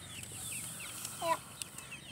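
Chickens in a chicken tractor on a homestead cluck faintly in the background, with a few brief soft calls over steady outdoor ambience.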